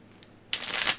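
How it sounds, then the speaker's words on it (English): Playing cards shuffled in one quick riffle, close and crisp, starting after a brief quiet moment and lasting about half a second. "Shuffling the cards."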